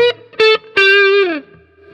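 An electric guitar played through a Marshall DSLCR40 amp on its crunch channel, with two short distorted stabs and then a longer sustained note that bends downward before fading, loud and close with no talking.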